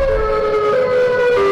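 A Siren Head monster in a scary TikTok video lets out a loud, steady mechanical siren wail, a sustained tonal howl with slight pitch shifts that carries on without pause.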